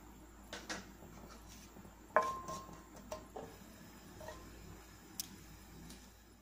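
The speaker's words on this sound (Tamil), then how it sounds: "கடுகு பொரியட்டும்" Mustard seeds splutter in hot sesame oil for a garlic tomato pickle, giving sparse, quiet pops and ticks scattered irregularly, with one sharper crack standing out against a soft background.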